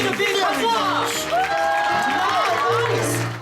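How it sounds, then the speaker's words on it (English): An audience in Disneyland's Royal Theatre applauds and cheers for Tangled performers Mr. Smythe and Mr. Jones, lively clapping with whoops and shouts mixed under the performers' voices throughout. "Can we get a big applause?"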